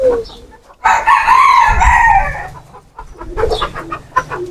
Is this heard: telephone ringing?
no